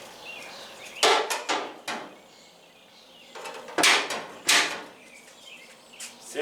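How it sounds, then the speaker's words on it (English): Several sharp thuds of a square-body Chevrolet S10 or GMC S15 pickup truck door being shut, spaced irregularly, close by with little else around them. "See how nice that thing closes?"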